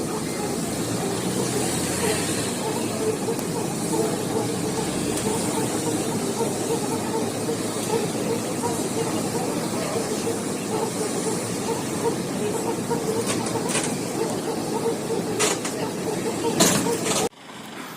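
Bus station in Durrës with buses idling and moving nearby, a steady low engine rumble with occasional hiss and brief higher clanks, continuous throughout with faint background voices.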